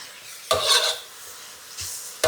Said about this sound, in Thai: ผัดเต็มกระทะเลยค่ะ